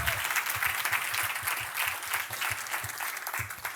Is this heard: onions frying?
no